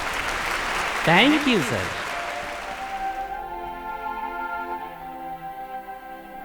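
Audience applause at a public gathering where a social worker is being called to the microphone, a burst of clapping lasting a few seconds before someone speaks over a fading tone.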